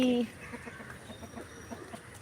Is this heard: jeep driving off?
no